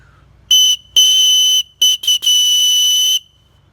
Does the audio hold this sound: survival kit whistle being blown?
yes